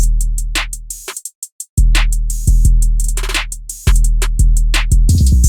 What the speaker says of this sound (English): There's a lot going on with the drums and it sounds crazy chaotic